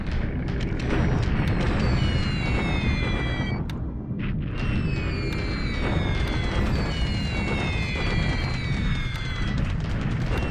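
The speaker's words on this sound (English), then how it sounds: "More bombing." Bombing runs in a wartime hex-based strategy video game: a loud, continuous barrage of booming blasts and rumbling explosions, with descending whistles of falling bombs over the top and a brief lull midway.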